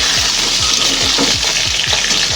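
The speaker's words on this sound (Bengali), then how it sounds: "আলু বেগুনটা দিয়ে দিলাম আলু বেগুনটা দিয়ে হালকা নেড়ে চেড়ে দেবো" Loud, close frying sizzle of potatoes and eggplant, with a spatula scraping the pan in a steady stirring rhythm.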